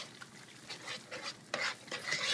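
Canned soup is stirred into melted butter in a pot, giving soft wet scraping and swishing strokes that grow louder toward the end, with no talking.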